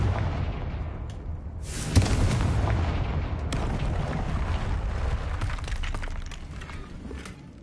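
A Confringo blasting spell explodes in the Hogwarts Legacy game, with a sharp boom near two seconds followed by a dense, rumbling roar that stays loud through the rest of the clip.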